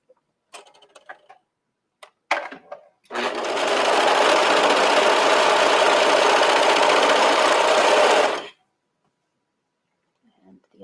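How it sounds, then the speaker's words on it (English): A 4-thread overlock serger stitches knit fabric for a top in one steady, loud whirring run of about five seconds, preceded by a few short clicks and brief starts. "because the serger, it'll just automatically fold then to the back side"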